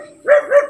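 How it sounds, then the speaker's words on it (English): Two quick dog barks close by, one right after the other, with nothing else around them. "Oh, there are dog barking."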